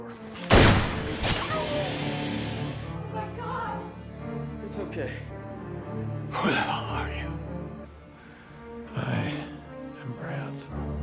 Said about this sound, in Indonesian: Stanley diberondong ratusan peluru yang menghujam